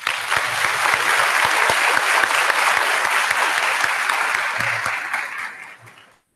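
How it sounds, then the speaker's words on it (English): Big round of applause from the audience at a 2018 high school commencement ceremony for the graduating class, dense steady clapping filling the hall before tapering off near the end. "So let's give us a big round of applause."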